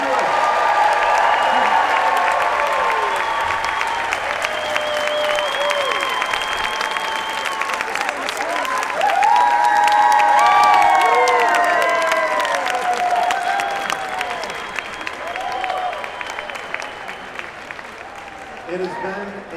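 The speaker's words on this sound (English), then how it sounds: "let's have a round of applause for all our wonderful graduates" An audience at an economics department commencement applauds the graduates, a dense, sustained wash of clapping lasting about twenty seconds, with voices and a few cheers rising over it.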